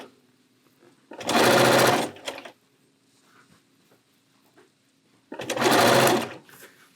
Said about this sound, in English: You see how slow I'm sewing?